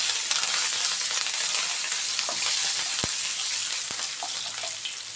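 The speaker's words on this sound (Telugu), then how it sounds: "పచ్చిమిర్చి వేసుకుని ఒకసారి బాగా వేయించేద్దాం." Green chilies and grated ginger fry in hot tempering oil for pulihora, giving a steady, close, even sizzle with a faint crackle that holds level for the whole stretch, with no voices.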